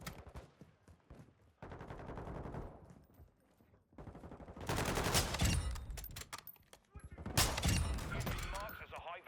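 Rapid automatic gunfire from Call of Duty: Modern Warfare II during a bounty mission in El Asilo, heard as loud, dense bursts with a quieter stretch and short pauses between volleys.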